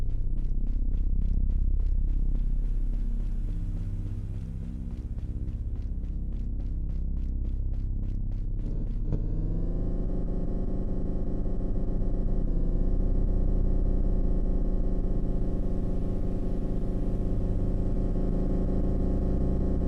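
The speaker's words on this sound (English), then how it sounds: "I love how this is the sound of the bus" Engine drone of a bus in the video game Citizen Vigilante: a continuous, loud, steady throbbing hum with a layered tonal whine, mixed with game music and clatter, heard alone without talk.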